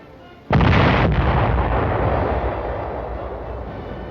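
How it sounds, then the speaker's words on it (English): A 105 millimeter howitzer fired by a gun crew: one sudden, loud blast followed by a long rumbling boom that slowly decays. "A gun crew fires a 105 millimeter howitzer."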